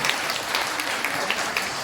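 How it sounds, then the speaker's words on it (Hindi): Audience applause after a talk on why samans should form their own sangh, a steady dense patter of clapping at moderate level throughout. "जोरदार तालियां बजाइए"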